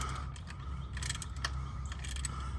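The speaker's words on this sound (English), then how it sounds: "we've got our 13 millimeter on here. And work that loose." A 13 mm ratchet working loose an alternator mounting bolt on a 2013 Chrysler 200 in the engine bay, a series of quiet close metallic clicks and ratcheting ticks over a low steady hum, no talking.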